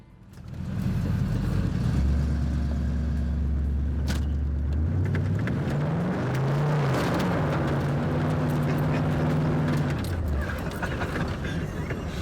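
A muscle car engine rumbles loudly up close, settling into a steady idle before the revs climb, dip and climb again in a series of throaty blips, then drop back to a low idle.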